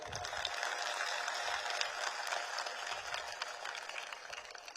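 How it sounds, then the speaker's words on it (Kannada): Audience applause in a Kannada community gathering, dense steady clapping from a crowd sustained throughout, fairly loud with no voice over it. "ಇದು ಒಂದು ಚಪ್ಪಾಳೆ ತಟ್ರಿ ಅವ್ರಿಗೆ"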